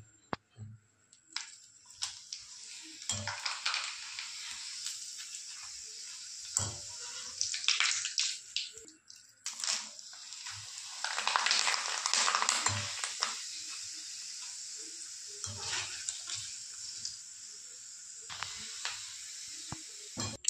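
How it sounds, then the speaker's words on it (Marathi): Homemade potato chips frying in hot oil, a fizzing, bubbling hiss that swells and fades in waves, broken by occasional clacks and knocks of utensils. "चिप्स तळून घेऊया।"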